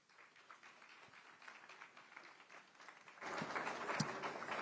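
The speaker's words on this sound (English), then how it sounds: "Big round of applause for the RBZ Chief Economist, Dr. Nicholas Masiandima." Audience applause for a central bank chief economist after his presentation at a conference, a steady patter of many hands that swells louder toward the end.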